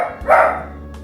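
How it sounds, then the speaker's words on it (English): A single sharp bark from a pet dog indoors at home, close and loud, followed by a brief fainter yip. "my dog is barking"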